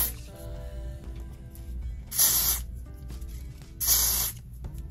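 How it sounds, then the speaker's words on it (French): Olive oil spray misted onto the front of a wig: two short, sharp hissing bursts a couple of seconds apart over a low background hum. "Je vais venir utiliser mon spray, le olive oil. Et je vais spray ça à l'avant,"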